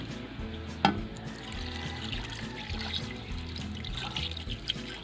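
Water poured into a pot of milkfish paksiw cooking with crushed pepper, a steady near trickle and splash with a brief clink near the start, no talk.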